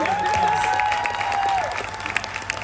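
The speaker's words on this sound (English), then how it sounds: "So please give her a round of applause." An audience at a women's health investment event claps in a steady round of applause, moderately loud, fading slightly toward the end, with a sustained tone lingering early on.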